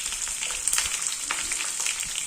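Chopped ginger, green chilies and curry leaves sizzle steadily in a hot pan of oil for a mango pickle, a close, bright continuous frying hiss with small crackles throughout.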